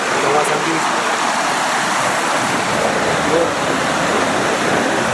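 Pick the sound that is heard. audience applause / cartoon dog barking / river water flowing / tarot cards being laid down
river water flowing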